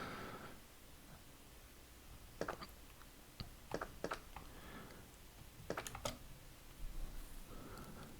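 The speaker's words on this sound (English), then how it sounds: "You will be able to hear me clickety-clacketing on the keyboard" Computer keyboard keys clack in short irregular bursts, close and fairly crisp, with quiet pauses between the flurries of typing.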